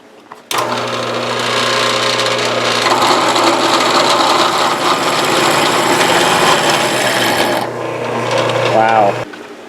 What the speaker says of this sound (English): put them in the drill press and drill the holes first